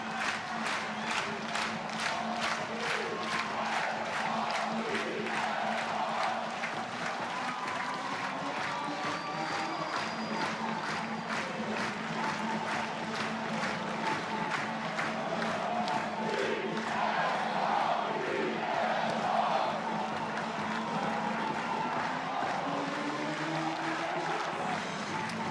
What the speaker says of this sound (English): This is the loudest this crowd has been in Louisville today.